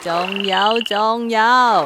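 A frog croaks loudly and close by in long, pulsing calls, with a brief spoken word in the middle.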